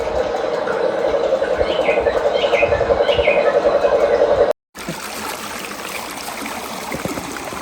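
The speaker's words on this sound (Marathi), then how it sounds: "पाण्याचा संत गतीने वाहणारा आवाज" A slow backwater stream flows with a steady watery rush while birds chirp in short bursts above it; the sound breaks off briefly and returns as a rougher, noisier flow.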